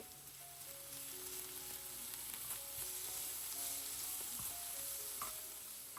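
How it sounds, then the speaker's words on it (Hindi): Onions with curry leaves, cumin and ginger-garlic paste sauté over high heat in a large cast iron pan, giving a continuous crackling sizzle with occasional stirring scrapes. "ये सब भी मैंने प्याज के साथ डाल के तेज़ आंच पे जल्दी जल्दी जल्दी सौटे कर लिए"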